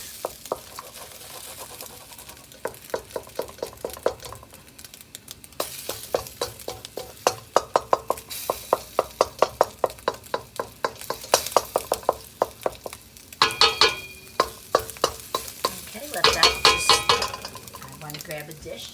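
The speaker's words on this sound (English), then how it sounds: "I'm going to break up the egg, because I don't want big chunks in my food." An egg fries in a pan for Chinese fried rice and is broken up with a utensil, giving rapid repeated scraping and tapping strokes over a soft sizzle, with a person talking throughout.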